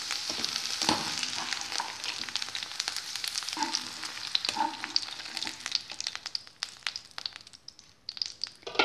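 Sliced okra frying in hot oil for a curry, a close, continuous crackling sizzle with occasional stirring clinks and scrapes that eases off toward the end, with no one speaking.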